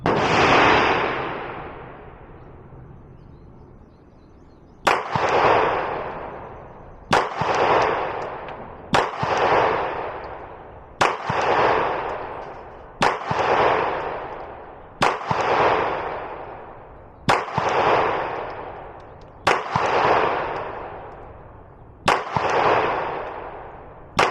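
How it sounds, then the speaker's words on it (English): A Glock 19 fitted with a Vantage Point Armory compensator firing Magtech rounds at 7 yards: one shot, a pause, then nine more sharp loud cracks at a steady pace, each trailing off in an echo. "we're going to shoot it's 7 yards with 10 rounds of that Magtech ammo"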